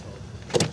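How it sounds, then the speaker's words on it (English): A car door and power window sound briefly as someone climbs into a car at Windsor. It is a short, fairly close burst of mechanical clunk and whir near the end, after quiet ambience. "He's got to take me getting into the car yet again."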